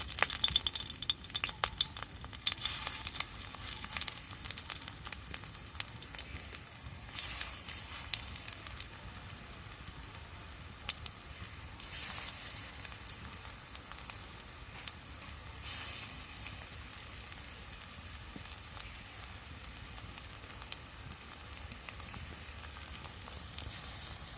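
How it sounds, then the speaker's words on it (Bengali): Drumstick leaf fritters sizzle and crackle steadily in a little hot oil, a soft continuous fry with occasional faint clinks of a utensil against the pan, no voices. "এটা যে রয়ে গিয়েছিল আমি এগুলোও ভেজে নিচ্ছি একইভাবে"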